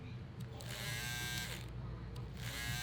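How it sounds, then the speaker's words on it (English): An Andis cordless T-Outliner hair clipper runs with a steady close electric buzz that holds throughout, while someone talks over it. "Let's try the Endis cordless T outliner."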